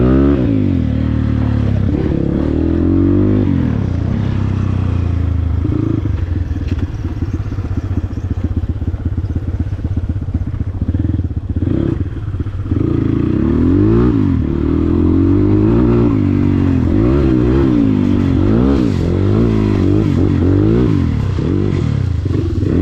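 A dirt bike engine revs and labours over a rough, rocky track around Lalitpur, loud and close, with repeated rising and falling throttle bursts and clattering.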